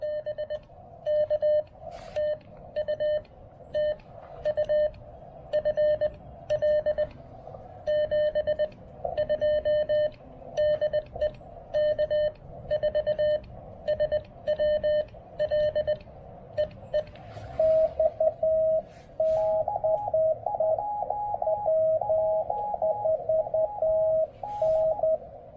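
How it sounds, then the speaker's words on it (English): Steady streams of CW Morse code tones come over an amateur radio at a park-on-the-air station, with rhythmic dits and dahs over a hissy background, and the pitch briefly shifts near the end. "You get used to the sounds of states in CW"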